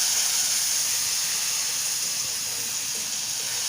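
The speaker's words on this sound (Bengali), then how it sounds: "আদা রসুনটাকে ভালো করে কষিয়ে নিয়েছি, দেখুন তেল ছেড়ে দিয়েছে" Ginger garlic paste fries in oil for chicken kosha, giving a steady, close, continuous sizzling hiss with no break or talk.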